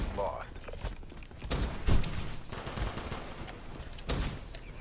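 M16 rifle fire in Call of Duty Black Ops 3 crackles in several bursts of rapid shots among mechanical clatter, with voices talking over the action.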